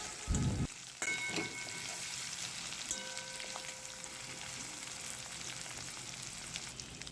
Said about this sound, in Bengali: সাদা জিরে ফোড়ন দিয়ে টুকরো করে কেটে রাখা আলু আর পটল দিয়ে দিয়েছি আর দিয়ে দিলাম লম্বা লম্বা পাতলা করে কাটা পেঁয়াজের টুকরো